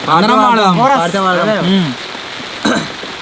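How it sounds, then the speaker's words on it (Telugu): Steady rain hiss runs in the background while a voice sings over it, nearly drowning it out. "ఇప్పుడైతే వాన వస్తుంది కదా"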